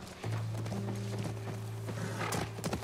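Horse hooves clip-clopping near a ranch in The Last of Us Part I remake: soft, steady hoofbeats under a low droning hum of background ambience, fairly faint and continuous.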